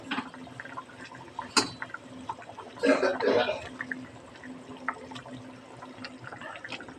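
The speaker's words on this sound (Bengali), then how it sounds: "এবার গরম জল দিয়ে একটু নাড়াচাড়া করে নিয়ে" Hot water splashes into a pan of fish curry in a short burst, followed by faint stirring and light clinks against a quiet kitchen background.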